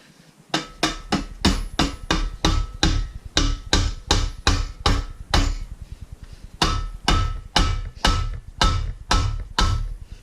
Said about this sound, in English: I'm gonna use the hammer again